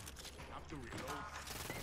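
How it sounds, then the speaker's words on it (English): A weapon is reloaded in the Hyper Scape battle royale game: a quick, faint run of mechanical clicks and ratcheting lasting under two seconds. "Have to reload."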